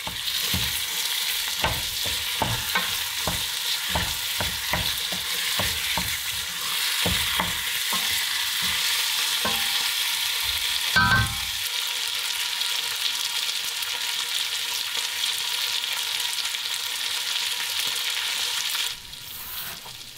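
Beef pieces for goulash searing in a pan on a hob at full power, a steady loud sizzle with repeated scraping stirs through the first half, then continuous frying alone.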